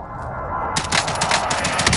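Rapid automatic gunfire in the Warzone battle royale shooter, a dense burst of close, loud shots that starts abruptly and rattles on steadily to the end.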